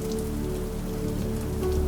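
Rain patters on a window in a steady, soft spray of drops over a low, constant hum, close and even with no voices.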